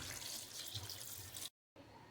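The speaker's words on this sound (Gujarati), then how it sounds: "હવે એમાં આપણે પાણી એડ કરીશું" Water pouring into a pressure cooker holding boiled pav bhaji vegetables with salt, a steady close splashing rush that cuts out briefly near the end and then resumes.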